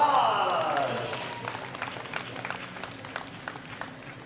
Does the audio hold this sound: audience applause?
yes